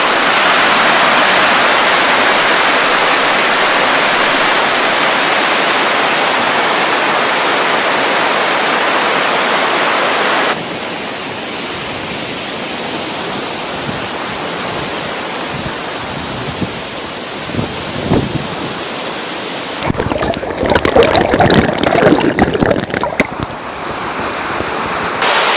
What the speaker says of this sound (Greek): Έχουμε φτάσει στο καταράκτη. Έχει πολύ θόρυβο